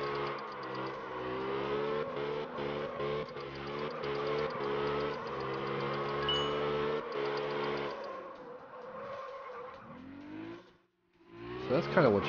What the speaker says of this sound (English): You just want to keep drifting sideways through the box.